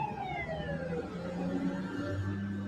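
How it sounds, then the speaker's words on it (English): A ladder truck's fire siren wails in the distance, its pitch sweeping downward over a steady rumble of background noise. "What is that sound? We got another ladder truck."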